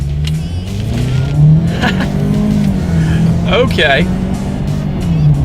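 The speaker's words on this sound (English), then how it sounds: "let's do a quick little acceleration now that we are in that sport mode, and let's see how quickly we can get the 2019 Edge here up to speed" A 2019 Ford Edge in sport mode pulling hard from low speed, a steady loud engine drone rising gradually inside the cabin, with a person speaking briefly over it.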